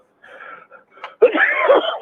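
A single close sneeze, preceded by a short sharp intake of breath and a brief wheezy build-up.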